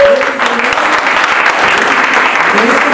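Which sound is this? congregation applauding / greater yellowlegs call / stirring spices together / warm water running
congregation applauding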